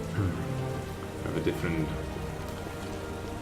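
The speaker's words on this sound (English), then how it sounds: "when will this rain stop?" Steady rain from a video game world, pattering continuously on surfaces with a soft broadband hiss, someone talking over it throughout.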